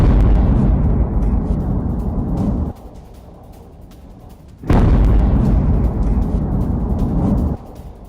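Bombing explosions at a military warehouse in Tehran, heavy roaring blasts that fill the clip, cut off briefly, then surge back loud and sustained with a deep rumble.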